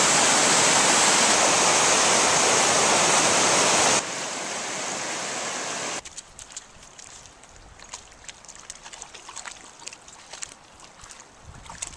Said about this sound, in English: Fast water.